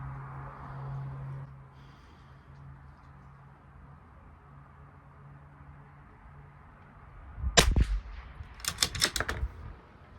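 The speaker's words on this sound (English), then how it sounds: "here we go, 5 shots." Bergara B14r rifle shots at a rimfire match ammo test, sharp close reports in a quick cluster near the end after a stretch of low background hum.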